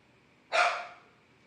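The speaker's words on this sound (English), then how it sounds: "I got my dogs barking out here trying to join the stream with us." A single dog bark rings out loud and close, with a sharp onset and a short fading tail, standing alone against a quiet background.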